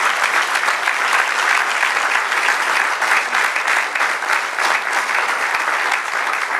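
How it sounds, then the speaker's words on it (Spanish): Church congregation applauding after a sermon prompt, a dense, steady wash of many hands clapping that holds at an even, loud level throughout with no talk over it. "¿Cuánto le dan un aplauso al Señor?"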